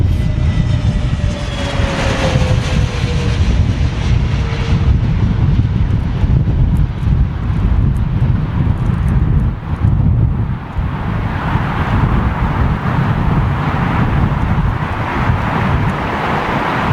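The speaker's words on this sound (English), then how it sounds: "Big engines, of course, on these Neos, so a little bit more difficult to handle in terms of turbulent air." An Airbus A320neo-family airliner with big engines lands at London Heathrow in strong, stormy wind. The engine roar is loud and steady throughout, with heavy wind buffeting and gusts on the microphone.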